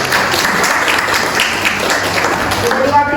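Audience applause in a university lecture room during a lecturer certification session, steady dense clapping sustained throughout, fairly loud and close.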